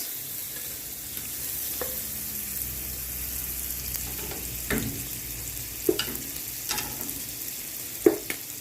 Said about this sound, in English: I'm going to be adding a tablespoon of butter to a heated pot. We're just going to allow this to melt.